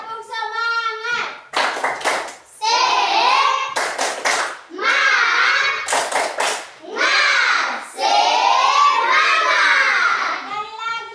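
A class of children performs a rhythmic cheer clap, sharp bursts of clapping in short groups alternating with loud chanted voices, close and lively.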